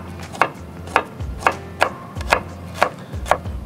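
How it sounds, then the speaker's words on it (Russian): Garlic being chopped with a knife on a cutting board in a home kitchen, seven crisp, evenly spaced blade strikes close by, with no talking. "покрошу чеснок прямо"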